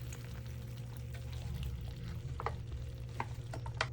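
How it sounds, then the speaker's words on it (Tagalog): Chili leaves and coconut milk go into a pot of simmering snails, bringing a soft pour and stir over a steady low bubbling sizzle, with a few light clinks of a utensil against the pot. "Ngayon ilagay na ang siling labyu at ilahat ang gata."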